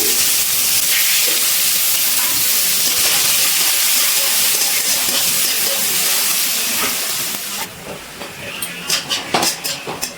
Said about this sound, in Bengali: পেঁয়াজগুলো আমি কুচি কুচি করে কেটে নিয়েছি সেটা ভেজে নিচ্ছি